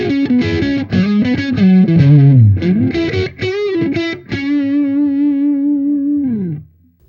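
Electric guitar played through a Mesa Boogie Electra Dyne amp in vintage high mode with the volume around 10 o'clock, a bluesy rhythm tone: choppy chords and riffs, then a held chord ringing out and fading at the end.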